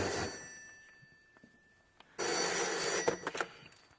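A telephone bell rings in two bursts, a short ring that fades out and then a louder, sustained ring, alone and fairly close.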